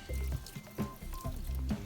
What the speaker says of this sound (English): And just hit it with some water. Wash it down.